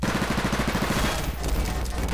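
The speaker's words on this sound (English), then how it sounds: "It's an SMG" An SMG fires in Garry's Mod, opening with a rapid, evenly paced burst of close, loud shots that run for about a second before giving way to a duller rumble.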